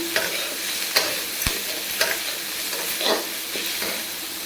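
Capsicum fries in a hot pan in a home kitchen, a steady sizzle broken by several sharp scrapes and clinks of a spoon stirring against the metal, close and without talk.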